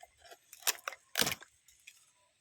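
Fresh bamboo shoots snapped off by hand while foraging give two faint, crisp cracking snaps a moment apart, with a few softer crackles around them.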